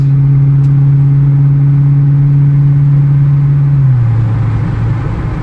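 Ford Super Duty pickup's 6.2 V8 with a 4-inch exhaust and Flowmaster muffler droning steadily while climbing a grade, a loud low hum that holds constant, then dips slightly in pitch near the end.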